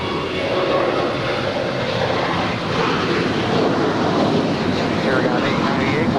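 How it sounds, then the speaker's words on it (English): An Alaska Airlines Boeing 737-900ER, nine years old, departs from Los Angeles airport bound for Seattle, producing a loud, steady broadband jet roar that swells slightly and persists throughout with wind buffeting on the microphone. "That is Alaska 585 departing to Seattle. It's a 9-year-old 737-900 ER."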